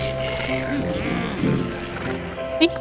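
A sheep bleats in the video game Wytchwood, its wavering call rising a couple of times over a soft game background.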